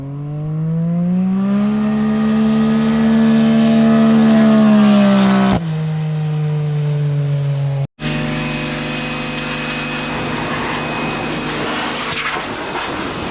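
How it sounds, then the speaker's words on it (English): A loud engine of a Can-Am Maverick X3 off-road vehicle with a new 3-inch RPM exhaust roars steadily with a rising, droning tone, cuts off abruptly, then rumbles back with rough, crackling exhaust noise up close. "This new exhaust is not neighbor friendly."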